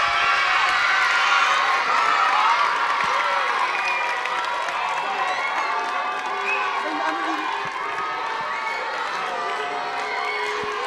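A school twinning ceremony crowd in Senegal bursts into sustained applause and cheering, a loud, dense wash of clapping and shouts lasting about eleven seconds without pause.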